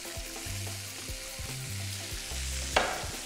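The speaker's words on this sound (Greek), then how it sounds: "Σοτάρουμε το κρεμμύδι μαζί με το σκόρδο" Onion and garlic sautéing in olive oil in a pan for lemon chicken with artichokes: a steady, close sizzle with faint clinks and scraping of stirring, and one brief sharp clatter near the end.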